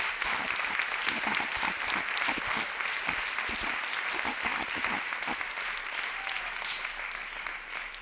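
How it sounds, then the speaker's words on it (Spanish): Audience at a comedy stage event applauding, dense sustained clapping from a crowd that continues steadily throughout and tapers slightly at the end. "antes de nada os voy a pedir un aplauso, pero no para mí, sino para Miren."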